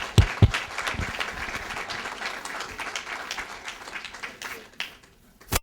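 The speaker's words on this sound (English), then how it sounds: "Again, the thunderous applause." Applause from the audience at a foundation's annual meeting, a dense, sustained patter of many hands with a few louder claps up front, thinning out toward the end.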